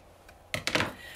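Scissors snipping through a cardboard paper towel tube for an Easter carrot craft: two or three close, crisp cutting crunches in quick succession after a quiet pause.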